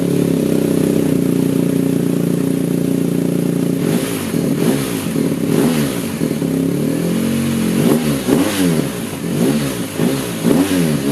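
A BMW 1250 motorcycle fitted with an Akrapovič exhaust revs repeatedly at close range, loud throaty bursts rising and falling over a steady idle rumble, with no voices.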